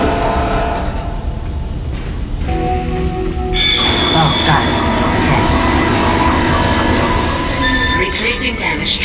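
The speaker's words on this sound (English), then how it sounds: "The tram is blocking the whole system." A video-game tram in Dead Space rumbles along steadily with squealing wheels and metallic grinding, loud and close throughout.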